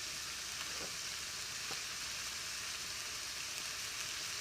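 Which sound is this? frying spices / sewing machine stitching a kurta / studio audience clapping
frying spices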